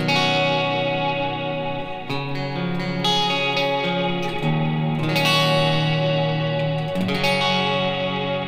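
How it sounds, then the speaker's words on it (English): A lush, sustained guitar pad washed in heavy reverb, chords swelling and shifting slowly into one another with a wide, echoing, space-filling tail. "it's really more of that kind of pad underneath your playing kind of a reverb."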